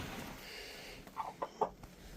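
Backyard chickens on a snowy homestead give a few short, soft clucks, three quick separate calls over a faint steady background hiss, fairly distant and without speech.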